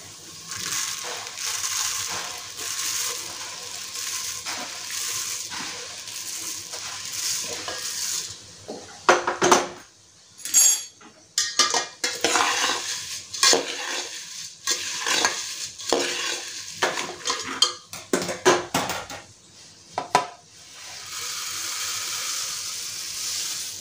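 Puffed rice tossed into a pan with fried green coriander, onion and chilli and mixed with a spatula, a hiss of frying followed by bursts of rustling, crunchy scraping and stirring that come and go.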